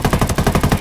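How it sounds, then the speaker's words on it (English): Rapid automatic gunfire in Ghost Recon: Wildlands, a steady burst of about eight evenly spaced shots, loud and close, with no talk over it. "Opening fire."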